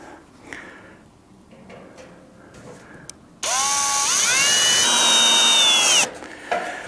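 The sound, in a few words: driving screws into tent stove pipe fitting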